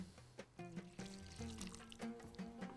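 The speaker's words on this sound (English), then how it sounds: "I'm going to add a little bit more water." Water poured in short trickles into a cooking pot of saloonat laham, a Bahraini meat stew, heard close and faint with small splashes.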